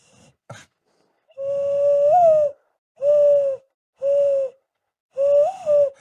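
A person imitates a mourning dove's call with their voice: four drawn-out, breathy hooting coos, each rising slightly in pitch, separated by short pauses, close and clear against a quiet background.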